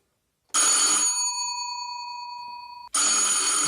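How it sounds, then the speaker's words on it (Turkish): An electric doorbell rings early in the morning: one loud, sustained ring that trails off, a brief gap, then a second loud ring starting, with no voices. "kim ya sabah sabah kapıyı böyle çalıyor ya"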